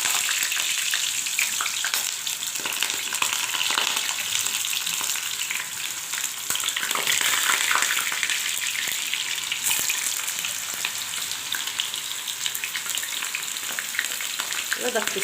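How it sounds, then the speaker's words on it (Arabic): Raw, unboiled potatoes frying in hot oil give a steady, dense sizzle with soft crackles and occasional stirring scrapes, close and continuous throughout. "نبدأ نقلي البطاطس زي ما هي، من غير سليق ومن غير اي حاجة"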